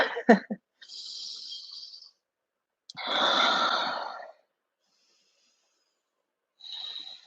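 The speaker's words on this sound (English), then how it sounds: "Let's take 3 breaths here." Slow, deep breaths during a vinyasa yoga flow, a long airy inhale followed by a fuller exhale and another breath starting after a pause, close to the microphone with silence between.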